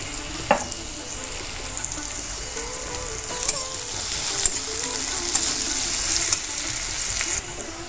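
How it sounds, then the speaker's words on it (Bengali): Onions frying in a pan for a spicy fish curry, a steady close sizzle with occasional stirring scrapes running throughout and no talk. "পেঁয়াজটা আমি লাল লাল ভেজে নিয়ে মশলা দেব।"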